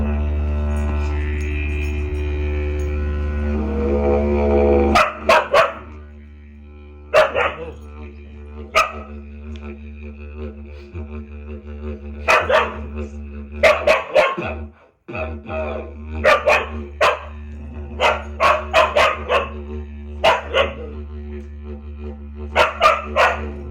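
Maisie the dog barks and yips repeatedly in bursts alongside music with sustained tones, loud and close, her barks coming in clusters across the stretch as she joins in like a duet.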